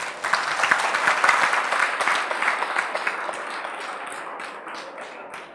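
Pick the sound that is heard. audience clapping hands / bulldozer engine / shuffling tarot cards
audience clapping hands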